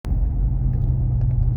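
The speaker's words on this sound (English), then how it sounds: "I can hear this shit rumbling under the fucking car" A damaged, modified Dodge Charger rumbles while driving, heard from inside. A loud, continuous low-pitched drone and rumble persists throughout, with faint rattles on top and no speech.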